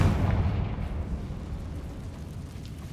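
A Confringo fire-blast spell in the Hogwarts Legacy video game goes off as a loud, close explosive boom that fades into a rumbling decay, no talk.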